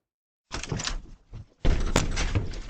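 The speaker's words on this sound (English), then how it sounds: "instead of ringing doorbells and running away, the suspects are trying to kick in those doors" A door is kicked in with heavy thuds, a first dull impact, a short pause with a smaller knock, then a louder, longer crashing blow, heard fairly close and alone.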